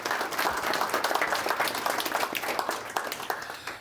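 An audience at a talk on Clay County prehistory claps continuously for about four seconds, a dense, even applause with no voices over it.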